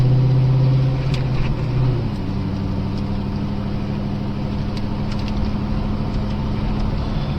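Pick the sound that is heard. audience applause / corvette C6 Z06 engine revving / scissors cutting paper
corvette C6 Z06 engine revving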